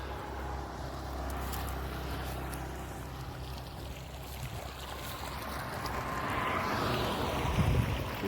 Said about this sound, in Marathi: बघा मित्रांनो, आपण आता बागेला पाणी चालू केलं.